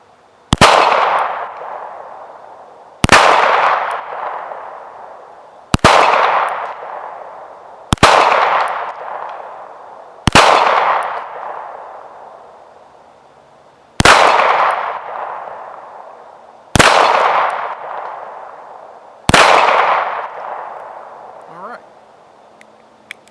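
Walther P38 pistol firing factory ammunition at a 10-yard target, eight sharp single shots spaced a few seconds apart, each loud crack trailing off in a ringing echo.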